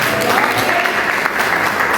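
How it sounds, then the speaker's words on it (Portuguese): A church congregation applauds together, a dense, steady wash of clapping that fills the room without letup, close and fairly loud. "Vamos aplaudir o nosso Deus que Ele merece."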